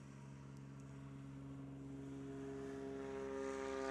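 A STOL propeller airplane at a competition practice at Clarion Airport holds a steady droning engine tone that slowly builds in loudness as it runs at full throttle for takeoff, heard from a distance and fairly faint.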